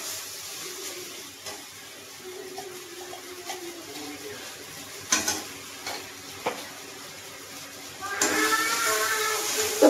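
Ginger-garlic paste sautéing in oil for a mutton curry, a soft sizzle and frying hiss with scattered stirring scrapes and a few sharp clicks, growing louder and brighter near the end.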